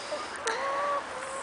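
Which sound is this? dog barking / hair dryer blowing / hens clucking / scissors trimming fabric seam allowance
hens clucking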